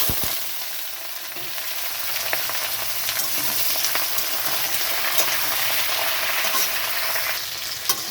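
Vegetables fry and get stirred in mustard oil in a wok with panch phoron and green chillies, a steady close sizzle running throughout with scattered scraping clicks of the spatula, no talking.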